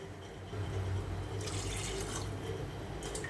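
Water is poured from a glass into a pan of cooking guar (cluster) beans with spices, a steady splashing pour over a low cooking hum, no voices.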